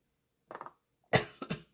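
Several short coughs in two close bursts, a quieter cluster followed by a louder, harsher pair, with silence around them.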